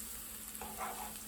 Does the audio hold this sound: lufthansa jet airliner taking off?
no